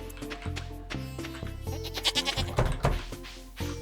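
A goat bleats in the farming video game Stardew Valley, several short wavering cries rising over light background game music.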